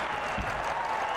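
Arena crowd at a men's team gymnastics world championship applauds a fast, high-legged pommel horse routine, with steady dense clapping and cheering filling the whole moment at moderate loudness.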